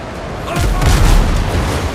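A ship's cannon fires in the Windrose naval game, giving a loud, deep boom that rolls out into a rumbling tail lasting about a second.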